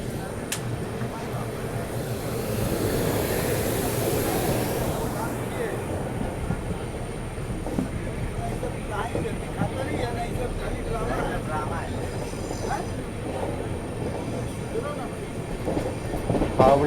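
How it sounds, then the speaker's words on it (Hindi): The Howrah Duronto Express rumbles past and overtakes, a steady loud rail roar with clattering wheels that swells early and then settles into a continuous drone. "हावड़ा दुरंतो एक्सप्रेस"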